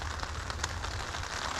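Steady rain patters outdoors at a Florida fishing bank, a soft, even hiss of drops on surfaces with no voices over it.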